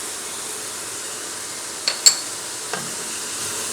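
Turmeric, salt, red chili and ginger-garlic powder are stirred into beef nihari in a pressure cooker, giving a steady low sizzle broken by a few soft scraping clicks of the spoon.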